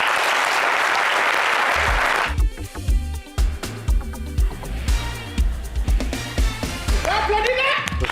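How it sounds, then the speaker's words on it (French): A TV studio audience applauds in a dense, loud burst of clapping, then the clapping fades as someone speaks in French and music begins, with scattered claps continuing under his voice. "Il faut applaudir encore."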